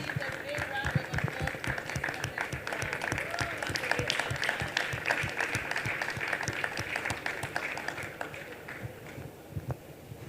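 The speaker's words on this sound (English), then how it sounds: "please, a big round of applause to Tokini herself" An audience applauds at an ART X Talks 2025 event, with dense, steady clapping filling the hall for about ten seconds while a speaker talks over it.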